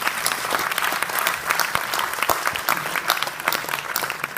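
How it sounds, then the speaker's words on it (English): An audience at a seminar event claps continuously, a lively uneven patter of many hands with sharp individual claps standing out, no voices over it. "we would like to start by just giving you a round of applause for who you are."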